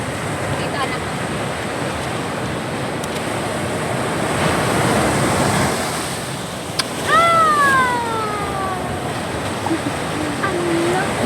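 Strong ocean surf washes onto a beach in a steady, loud roar mixed with wind rumble, swelling in the middle; a voice calls out briefly over the waves.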